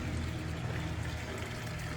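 Water runs steadily from a roadside drinking fountain at a pilgrims' sitting area on the Camino Invierno in Galicia, a continuous close pouring stream with no talk.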